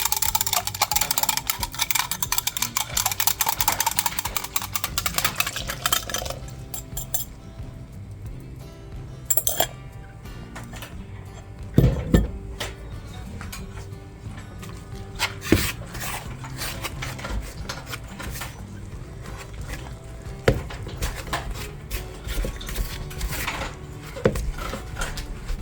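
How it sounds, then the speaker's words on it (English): Buttermilk stirred in a bowl with a utensil, bright clinks and scrapes against the dish, at first a steady rapid mixing, then sparser knocks and taps, close and fairly loud, no talking. "I'm going to mix this buttermilk up a little more"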